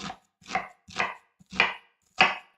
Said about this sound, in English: now I'm gonna cut all the onions